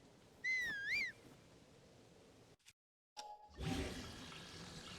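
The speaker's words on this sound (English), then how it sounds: "Stop whistling! I keep whistling like an idiot." A character in the video game Zelda: Tears of the Kingdom whistles a short rising-and-falling tune of two swoops, clear and fairly loud, followed by a brief silence and then rustling game ambience.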